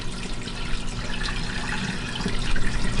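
Water pours steadily into a portable washing machine tub, a continuous splashing gush that swells slightly toward the end, close and alone without talk.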